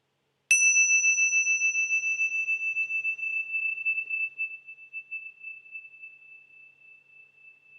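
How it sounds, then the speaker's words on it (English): A meditation bell is struck once, its bright clear tone ringing alone and decaying slowly over several seconds in a quiet room, with no talking. "And then just notice the movement of the sound of the bell through time."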